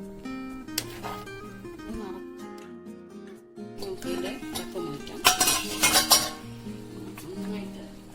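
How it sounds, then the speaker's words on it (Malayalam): A spoon clinks and scrapes against a pot as a traditional Kerala fish curry is stirred slowly, with soft bubbling and sizzling underneath and a few sharper metal knocks mid-way; a voice talks at points. "പതുക്കെ ഇളക്കി കൊടുക്കണം, കഷ്ണങ്ങൾ ഉടയാതെ."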